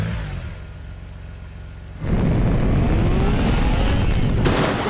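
A Lamborghini engine in Teardown revs hard, starting as a quieter idle hum and then jumping into a loud, sustained roar that holds steady to the end.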